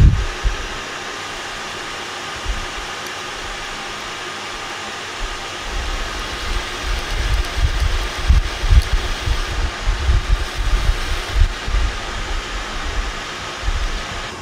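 Metal lathe refacing and reaming a Ruger American Rimfire barrel with light cuts, held by a tailstock center: a steady broadband mechanical hum, with rougher low cutting chatter building in the second half, alone without talk.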